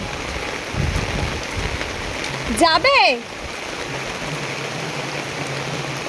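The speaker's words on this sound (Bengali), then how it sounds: "দেখো কত জোরে বৃষ্টি হচ্ছে, দেখো এদিকে পুরো জল জমে গেছে, ড্রেন পুরো ওভারলোড হয়ে গেছে" Heavy rain pours steadily with a constant hiss while water floods an overloaded street drain, a close rushing wash throughout; a brief vehicle horn or squeal and a short spoken question cut in midway.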